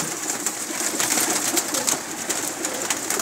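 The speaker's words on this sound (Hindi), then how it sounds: "काफ़ी तादाद में कबूतर हैं जिनके पास" Pigeons cooing softly amid a steady wash of bird noise and chirps, fairly close, continuous throughout with no talking, at a pigeon keeper's loft in Pakistan.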